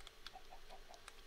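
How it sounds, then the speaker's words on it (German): A chicken in Minecraft makes a few short, faint clucks in a quick irregular series over low background noise. "Ah, hier ist ein Huhn."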